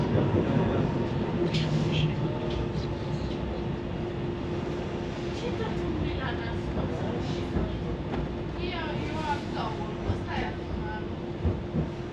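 A new DLR B23 light-rail train runs in service, heard from onboard as a steady rumble and hum with faint rhythmic clatter and rising motor whine, while a voice speaks over it.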